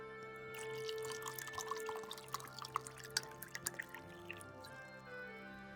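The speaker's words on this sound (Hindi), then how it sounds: "मुझे प्लीज़ पानी डाल के दें" Water poured into a glass at a home dinner table, a soft trickling and dripping pour that is fairly faint, with light splashes and a background hum.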